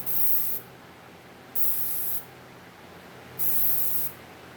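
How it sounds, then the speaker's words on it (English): A Paasche H airbrush sprays FW acrylic inks in three short hissing bursts, each about a second long, with quiet pauses between them, close and fairly soft. "Airbrush I'm using right now is a Pache H. What's in it is FW acrylic inks."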